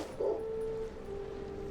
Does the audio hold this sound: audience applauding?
no